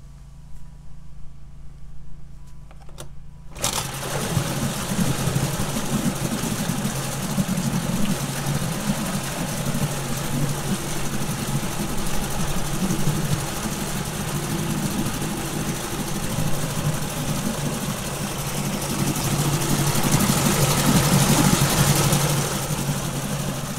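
A Mercury 7.5 hp outboard motor with a new water pump impeller starts after a few seconds of quiet, then runs at a steady, fairly loud idle with a low hum and slight swelling near the end.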